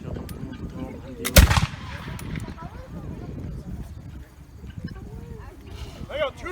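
A single loud, sharp gunshot from a rifle or musket cracks close by and fades quickly, while people talk before and after it.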